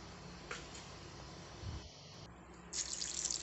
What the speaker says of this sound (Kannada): ಸ್ವಲ್ಪ ನೀರು ಹಾಕಿ ನೈಸಾಗಿ ಗ್ರೈಂಡ್ ಮಾಡ್ಕೊಳ್ಳಿ.